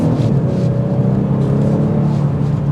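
A 2024 Genesis G70 3.3T sedan pulls hard under acceleration, its steady engine drone and road rumble holding close and loud throughout with no voices.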